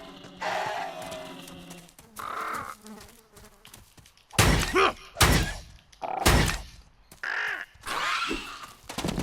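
Crows caw in the video game ELEX II, with several loud, harsh calls close by that come in separate bursts, and faint buzzing and thuds between them.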